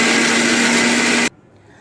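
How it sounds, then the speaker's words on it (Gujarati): A mixer grinder blends cut Alphonso mango pieces into pulp, a loud steady motor whir with a strong hum that runs alone and then cuts off abruptly near the end. "કેરીને આપણે કટકા કરીને મિક્સરમાં વાટવાના છે."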